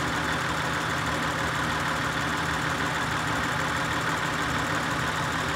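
An Acura TL engine idles rough with random misfires while RPM sags to about 600, a steady broadband rumble with a faint low hum, fairly quiet and continuous with no voices.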